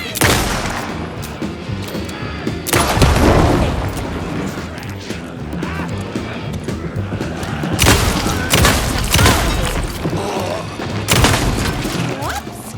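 Gunfire from the Alan Wake II Night Springs DLC, rendered as heavy booming bursts and crashing impacts in clusters, loud and dense, with a few quieter gaps between volleys.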